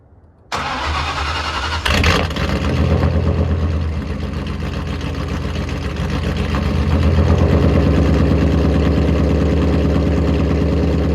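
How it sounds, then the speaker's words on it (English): A 2001 Roush Mustang Stage 2 cold starts with a sharp crank and a loud catch, then settles into a rumbling, lumpy high idle that swells slightly toward the end, close up with no voices. "We'll get a cold start for y'all and get into the video."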